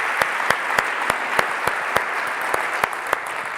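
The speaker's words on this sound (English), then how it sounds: "Have a big clap for them." A gala audience claps for presenters at a startup pitch competition final. The applause is steady and dense, with sharp rhythmic claps in unison recurring about three times a second throughout.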